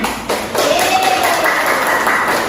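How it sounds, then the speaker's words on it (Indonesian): Schoolchildren in a classroom clap for a group, a steady muffled wash of hand claps that holds from about half a second onward, with a faint voice or tone drifting through it. "Untuk kelompok 2 silakan tepuk tangan"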